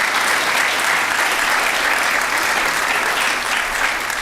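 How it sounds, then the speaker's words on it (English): A large audience at a Fulton County state-of-the-county address giving a sustained, loud round of applause, dense and even throughout with no talking over it. "let's give them a round of applause for their great work"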